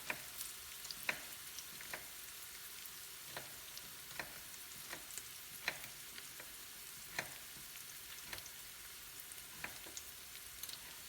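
Young squash stir-frying in a pan: a quiet, steady sizzle runs throughout, broken by sharp spatula scrapes and clicks every second or so.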